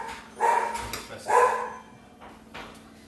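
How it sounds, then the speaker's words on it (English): Two or three short dog barks, moderately close, separated by brief pauses over a quiet hum. "I'm sure that the barking will stop now."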